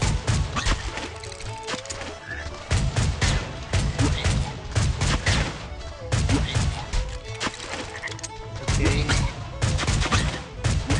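Rapid, sustained gunfire from the mobile game Swamp Attack 2, dense bursts of shots with crashing impacts running throughout, loud and busy with brief dips between volleys.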